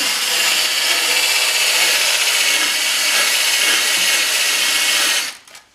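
A power tool abrades oxidation off an aluminum pontoon down to bare metal before a repair, giving a steady, loud, harsh grinding hiss that runs continuously and then cuts off abruptly near the end.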